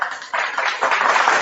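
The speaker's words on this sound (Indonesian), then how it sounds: "Tepuk tangan." A crowd at an interfaith debate claps, a short burst of dense applause that swells within a second and holds steady, fairly loud with no voices over it.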